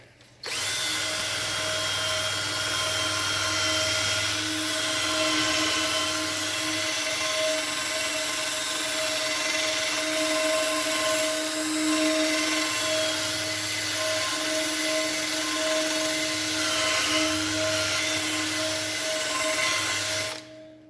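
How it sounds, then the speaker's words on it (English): A power drill spins a wire brush wheel continuously, a loud steady whine with scratchy grinding against metal while cleaning during a tire leak repair, running for about twenty seconds before stopping. "So I've got the wire wheel and the drill ready to go."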